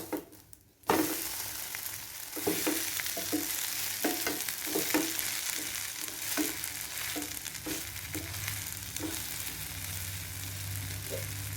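An oats omelette sizzles steadily in a pan, with a series of soft scraping and tapping spatula knocks as it is turned over, and a brief quiet moment at the start.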